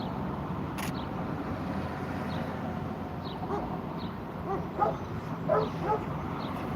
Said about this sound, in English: Shut up, barking dog.